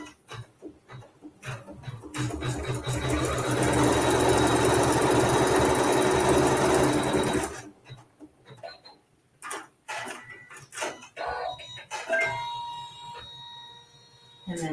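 Sewing machine stitching a quilt block seam, a loud, steady, fast mechanical whir running for about five seconds, then stopping and followed by quieter handling clicks and rustling of fabric.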